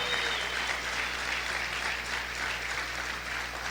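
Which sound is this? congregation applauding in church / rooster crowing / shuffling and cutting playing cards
congregation applauding in church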